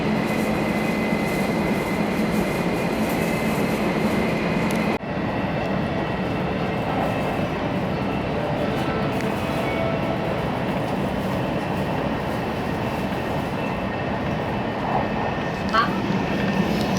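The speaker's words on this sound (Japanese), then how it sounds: "新幹線に乗ってます。" Interior of an 800 Series Shinkansen bullet train running between Hakata and Kumamoto, a steady loud rumbling rail roar throughout with a brief shift in tone partway through.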